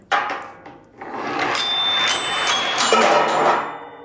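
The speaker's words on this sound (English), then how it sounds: "Roll a ball down the ramp to make the 4 bells ring." A ball rolls down a wooden ramp and strikes bells, giving a bright opening ring followed by a rumbling roll with several overlapping high chimes, close and clear, with no talking.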